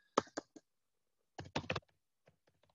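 Several short clicking bursts in two quick clusters, like keys struck on a computer keyboard, with a few faint taps trailing after; quiet, close, and otherwise silent.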